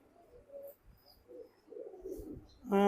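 Soft, low pigeon coos murmur close by in a quiet space, ending in a sudden louder tonal burst.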